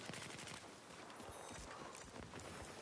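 Rapid gunfire in the Battlefield 4 video game on Xbox 360, dense bursts of shots rattling continuously and loudly throughout with no voice over them.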